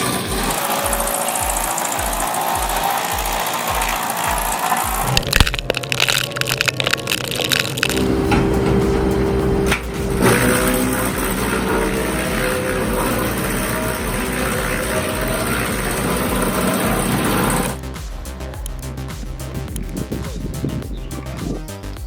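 A large flywheel wood chipper slices and shreds logs with loud cracking, crunching and grinding over a running engine drone. The texture shifts abruptly between sections, with a rapid knocking passage at the start and a steadier roar later.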